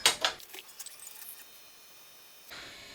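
Several quick plastic clicks and taps from keys pressed on an old computer keyboard, close and fairly faint at the start, followed by near silence and a soft rustle at the end.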